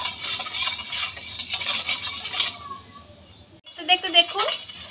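A spoon stirs black salt (bit noon) into sweetened lemon water for homemade lemon sherbet. A steady swishing churn gives way to brief quiet, then a few light clinks and scrapes near the end.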